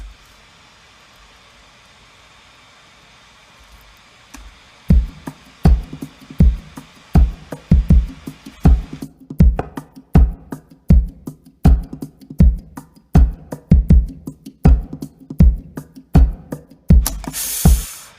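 Sampled drums from a Kontakt instrument plugin: after a few seconds of near-silent hiss, a steady groove of punchy kick and snare hits enters, with busier percussion layered in partway through, loud and up front.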